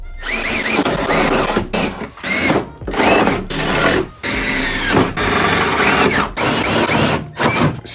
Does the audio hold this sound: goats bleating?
no